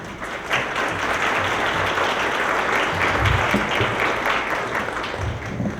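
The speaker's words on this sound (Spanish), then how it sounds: "para quienes pido un aplauso" Steady audience applause at a gender conference in Mexico City, a continuous dense patter of many hands clapping at moderate volume for the full stretch.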